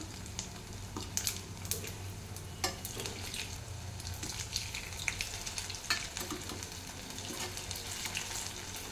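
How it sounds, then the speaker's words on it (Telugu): Sabudana vadas made with potato and bread fry in oil over a low flame, a steady close bubbling sizzle with scattered sharper pops and a few clinks as the pieces are turned, and no talk. "అందుకని స్లిమ్లో పెట్టుకొని వేయించుకోండి."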